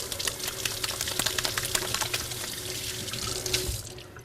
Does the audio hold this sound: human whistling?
no